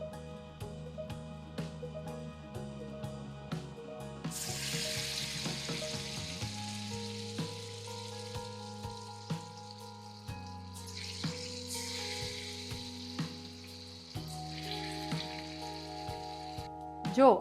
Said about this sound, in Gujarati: હવે હું મારા ચણાની દાળના વડા મૂકીશ